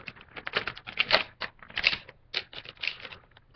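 A Star Wars Qui-Gon Jinn action figure is pulled free of its plastic packaging, giving a close run of crinkling, crackling plastic bursts in uneven clusters.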